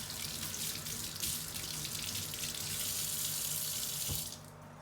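Water runs steadily from a kitchen tap while a knife is rinsed under it, a continuous close hiss that shifts in tone briefly near the end as the flow is interrupted.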